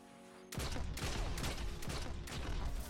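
Rapid, overlapping shotgun blasts from the Destiny Crucible ring out after a short quiet lead-in, a dense continuous barrage of close, loud gunfire with no talk.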